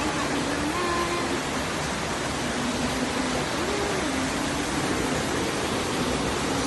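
Floodwater surrounds a hut with a steady, loud rushing wash of water that stays continuous and unbroken throughout.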